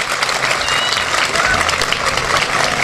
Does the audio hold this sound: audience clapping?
yes